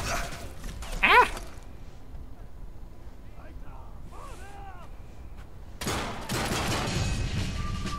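A sniper rifle and a Thompson submachine gun fire in the Sniper Elite 3 video game: a sharp shot early on, then a quieter gap with whistling tones, and a dense burst of gunfire at the end.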